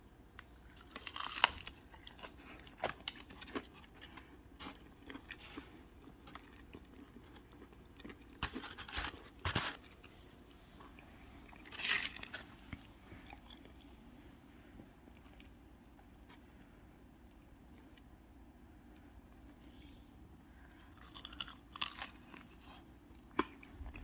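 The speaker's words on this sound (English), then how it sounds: "And now it's time for the crunch test." Crunchy air-fried chicken wings from a small air fryer being bitten into, giving several sharp, close crunches spread across the stretch, separated by quieter chewing and room noise.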